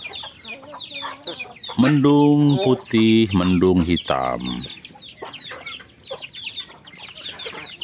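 Free-range village chickens forage among scattered rice, giving loud, close clucks and squawks in short bursts, with a voice speaking over them.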